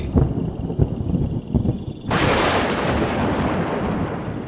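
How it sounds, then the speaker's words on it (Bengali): A thunder effect for a spoken story about a downpour with lightning: a few low rumbles, then a sudden loud crack that swells into a sustained roaring rumble fading slowly. "6টা নাগাদ বিদ্যুৎ ও বজ্রপাতের সঙ্গে মুষলধারে বৃষ্টি নামল।"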